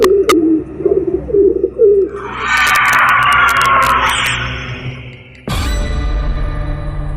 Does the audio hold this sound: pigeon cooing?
yes